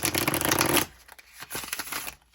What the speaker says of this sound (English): So I'm going to try to shuffle it.